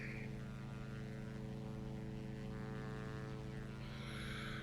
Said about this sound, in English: We're going to rev it up to get our engine load to 88